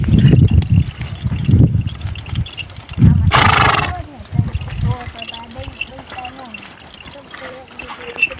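A trained mare dancing as its trainer works it, with scattered hoof thuds and a loud whinny in the middle, mixed with nearby voices and crowd talk.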